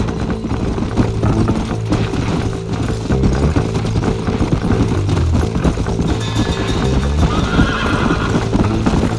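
Horses gallop with fast, steady clip-clopping hooves while a horse whinnies loudly, set against a continuous rumbling soundscape in the video game Red Dead Redemption.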